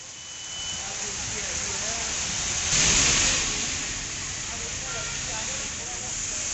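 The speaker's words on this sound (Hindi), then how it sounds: "सुबह से रुक रुक कर बारिश लगातार चल रही है" Rain falls steadily in Haldwani, Uttarakhand, a broad even hiss of drops on the ground mixed with a passing vehicle's swell around the middle, while voices murmur faintly underneath.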